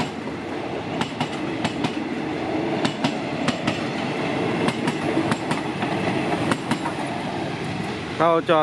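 Bangkok–Phitsanulok train 201 rolling into a station platform: a steady loud rumble with regular clickety-clack wheel beats and a brief wheel squeal at the end.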